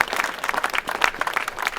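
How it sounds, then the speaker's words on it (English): An audience applauds a group of YouTubers, producing dense, steady clapping from many hands throughout, fairly close and loud. "I think we should give a round of applause to all the YouTubers"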